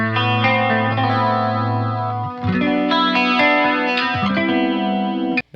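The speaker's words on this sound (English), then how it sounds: "A little bit of a deeper chorus there, I like that." A Fender Champion 50XL amp on a deeper chorus setting carries loud distorted electric guitar chords that swirl and wobble, shifting to a new chord partway through with a brief dip and ending abruptly, with no voices.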